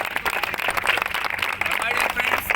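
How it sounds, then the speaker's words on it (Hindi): An audience at a celebration gathering claps loudly and continuously in a dense, steady burst of applause from start to finish. "एक बार उन सभी के लिए जोरदार ताली चाहता हूँ"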